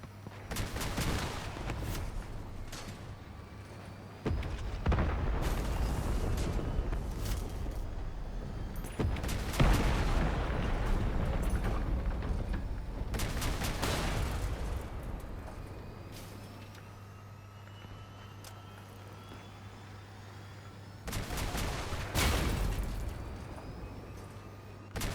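Artillery fire in the vehicle combat game Crossout, heavy booming volleys in several separate bursts with rumbling between them and machinery droning underneath.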